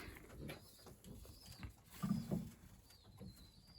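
Pigeons resting after bathing give soft, low coos, a few short murmuring calls clustered near the middle, fairly quiet against faint background rustle, with no talk.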